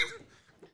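A single short, faint cough bursts out at the start and then trails off quickly into near silence.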